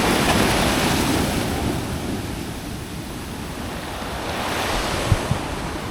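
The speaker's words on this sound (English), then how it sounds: "we are finally here at the beach" Surf rolls steadily onto the beach at Mui Ne, Vietnam, a continuous broad wash of breaking waves with gusty wind buffeting the microphone, plus a couple of brief soft knocks near the end.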